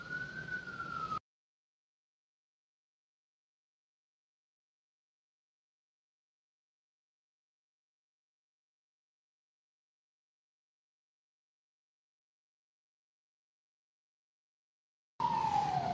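A siren wails briefly at the start, then long silence follows before the siren returns, rising again at the very end.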